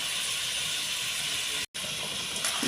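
Water comes to a boil in a cooking pot for a rohu fish curry, giving a steady close hiss of bubbling and steam with a brief dropout near the end.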